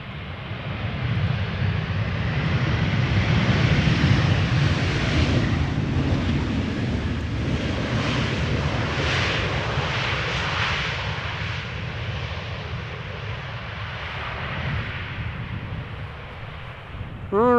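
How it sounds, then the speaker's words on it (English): An Air Portugal Airbus A320 arriving at Amsterdam Schiphol Airport, a broad, loud jet roar that swells and then slowly fades as the airliner passes, with wind buffeting the microphone and a brief voice at the very end. "Air Portugal, flight 670, A320 arriving from Lisbon."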